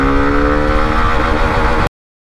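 A Hero Xtreme 125R motorcycle engine pulls hard in second gear, a loud, steady rising engine note that climbs for almost two seconds and then cuts off abruptly.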